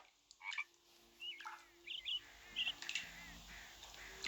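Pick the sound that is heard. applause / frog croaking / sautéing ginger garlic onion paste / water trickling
frog croaking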